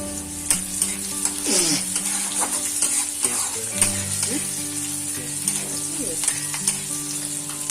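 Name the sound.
garlic and chopped chili frying in oil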